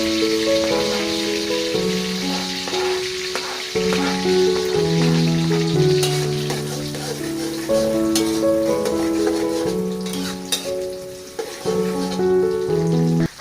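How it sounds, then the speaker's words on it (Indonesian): Shallots and garlic sauté in hot oil in a wok, giving a steady, soft sizzle that runs under continuous melodic background music throughout. "Setelah minyaknya panas, tumis bawang merah dan bawang putih hingga harum."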